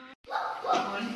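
A toddler just over one year old imitates a puppy's bark with a couple of short, yipping vocal bursts, close and fairly quiet.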